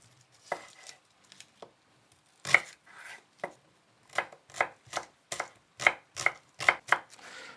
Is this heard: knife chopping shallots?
yes